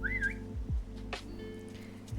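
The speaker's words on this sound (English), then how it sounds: "You can also press N to whistle." In a survival video game with sharks and crocodiles, a character gives a short rising whistle over a steady low game hum, followed by faint swooshes and soft tonal effects.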